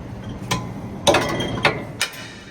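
Metal clunks and clicks from the latch on a 1977 International Scout Traveler 4x4 swing-away rear bumper, four sharp mechanical knocks spread over a couple of seconds, close and fairly loud.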